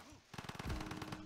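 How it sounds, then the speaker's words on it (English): Rapid rattling bursts of a Gatling gun firing in Civilization 5, a quick run of evenly spaced shots following a brief quiet lead-in, fairly loud with a low rumbling tail. "Gatling gun, move here and fire."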